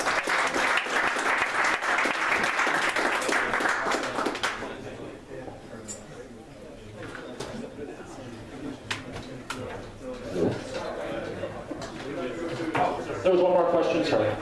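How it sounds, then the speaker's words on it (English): Audience applause at a tech founders' speaker event, a dense loud burst of clapping for the first few seconds that thins out, with scattered claps, crowd murmur and talk continuing underneath. "One more round of applause."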